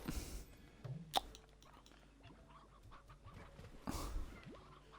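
Chickens in the video game Slime Rancher cluck in short scattered bursts against quiet surroundings, with a couple of sharper louder pops mixed in.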